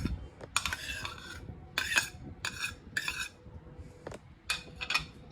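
Salted egg, onion and tomato are mixed together in a bowl, with a run of close, brisk scraping and clinking bursts of utensil against dish separated by short pauses.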